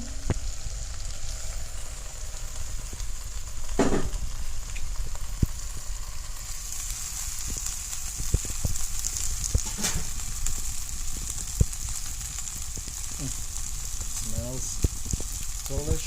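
Chicken wings sizzle in a cast iron pan over an outdoor jungle fire, a steady close crackling hiss with occasional sharper pops and clicks, running without a break and with no voices.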